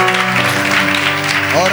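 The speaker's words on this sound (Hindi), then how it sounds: "तो सारी महिमा प्रभु को देते हुए ताली बजाकर यीशु की महिमा करें।" A church congregation applauding in praise during a Hindi sermon, steady dense clapping close by, with voices and a sung tone running over it.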